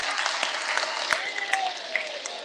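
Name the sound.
audience applauding a guest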